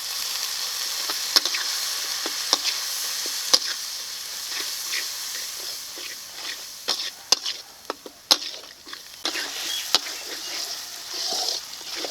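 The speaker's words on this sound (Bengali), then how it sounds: "এখন অল্প করে জল দিয়ে মশলাটাকে ভালো করে কষিয়ে নেবো" Spice masala of Kashmiri chili powder sizzling and frying in a pan with a splash of water for Chinese duck curry, a steady close hiss broken by sharp clicks and scrapes of stirring, no talk.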